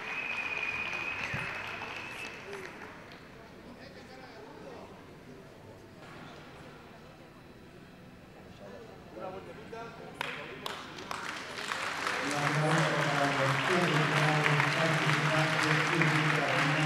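Applause from the audience at a dog show's young-dog final, starting faintly with a loud voice over it, then swelling into dense, sustained clapping and crowd noise with music during the last few seconds.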